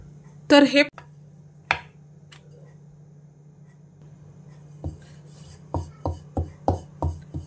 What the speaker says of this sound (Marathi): आता आपण हे लाटून घेऊया।